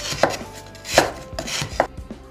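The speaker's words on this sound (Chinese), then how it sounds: "切好葱姜蒜，将蒜切碎。" A knife chops garlic and other aromatics on a board: about five crisp, close, uneven chops with no talking.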